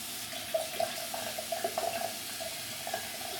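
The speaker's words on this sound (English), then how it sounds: "let me just rinse up" A face is rinsed under running tap water after a shave: a steady stream at a sink with small splashes and irregular bursts as hands dip into the flow, moderately close, with no speech.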